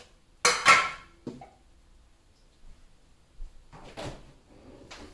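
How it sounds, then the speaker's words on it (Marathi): Plates and dishes clatter in a home kitchen while an egg omelette is plated, with a loud clink at the start, a few lighter knocks and handling sounds after a quiet gap. "तर प्लेट करण्यासाठी सिंपल अपनी नॉर्मल प्लेट, कौन सा भी प्लेट लो."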